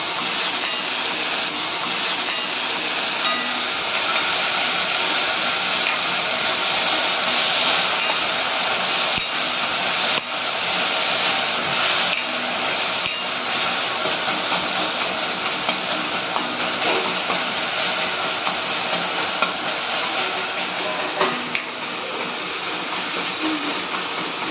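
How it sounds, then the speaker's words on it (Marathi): Tomatoes and onions roast with salt in a pan at home, giving a loud, continuous, even hiss of sizzling that runs unbroken from start to finish with no talk over it. "बघा अशा प्रकारे भाजून होतंय टमाटा."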